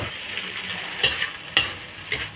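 Pancit bihon mixture being stirred in a hot pan, a steady close sizzle broken by a few sharp scrapes and clinks of the utensil against the pan.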